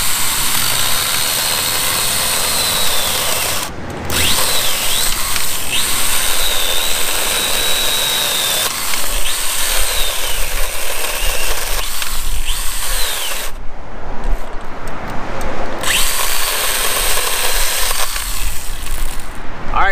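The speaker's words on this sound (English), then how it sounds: "Let's go ahead and cut some more pieces, and it is important that you put two hands on the saw here." A STIHL GTA 26 cordless garden pruner saw cutting through wood pieces, a loud steady buzzing whine running nearly twenty seconds, with brief pauses between cuts and no talking.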